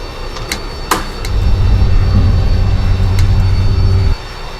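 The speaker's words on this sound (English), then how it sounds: "not only can you open a window, it makes a different sound when you open a window" Cockpit window of an airplane in a flight simulator game sliding open, bringing a loud, steady rushing rumble of wind and engine that swells in after a faint click, holds for about three seconds, then drops back abruptly.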